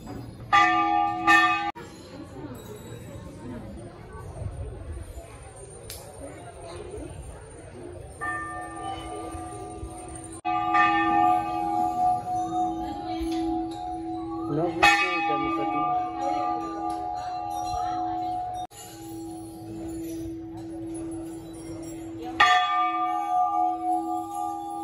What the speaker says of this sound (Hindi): यहाँ से लाखों की संख्या में घंटी बांधी गई है